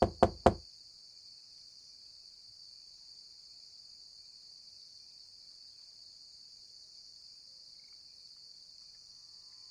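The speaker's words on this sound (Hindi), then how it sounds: "एक रात करीब 7 बजे किसी ने दरवाजे पर दस्तक दी।" Three quick, sharp knocks on a door open the scene, then a long quiet stretch with a thin, steady high insect-like hum.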